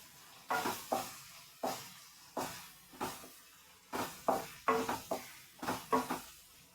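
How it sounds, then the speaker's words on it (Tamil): Onions frying in a pan while a spatula scrapes and stirs them in a dozen sharp, uneven strokes, some in quick bursts, over a soft sizzle. "வெங்காயம் நல்லா வதங்கணும்."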